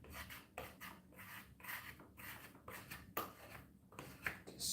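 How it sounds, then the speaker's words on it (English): Old grout in a shower being scraped hard with the back of a blade, giving repeated rasping strokes in an uneven rhythm, close and fairly faint, with no voices. "Just really scrape it hard."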